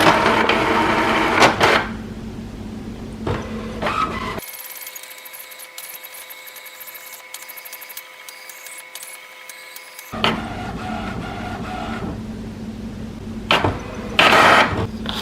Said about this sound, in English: When new cartridges are installed, an alignment page will be printed.